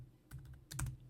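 Keys on a computer keyboard clatter in two short bursts of quick, close taps as an email address is typed, with quiet pauses around them and no voices.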